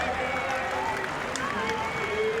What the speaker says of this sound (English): Great claps, whistles.